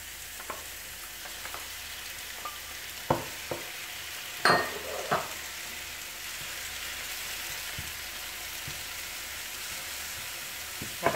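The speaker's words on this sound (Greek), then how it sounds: "Θα τσιγαρίσουμε για λίγο τα μανιτάρια μας." Mushrooms and onion sautéing in a pan, with a steady soft frying hiss throughout and occasional scrapes and knocks from stirring, including a couple of clearer spoon strikes in the middle.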